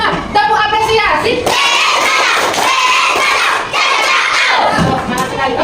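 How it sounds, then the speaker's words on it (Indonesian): Loud classroom of children shouting a chant while clapping a rhythmic appreciation cheer during an Islamic education lesson, voices and hand claps mixed together close by. "Tepuk apresiasi."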